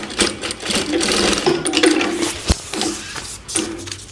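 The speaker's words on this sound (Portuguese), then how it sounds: "Costurei de um lado." A sewing machine stitches a bag seam, running in short uneven bursts of whirring needle strokes that start and stop several times, close and clear with no talking.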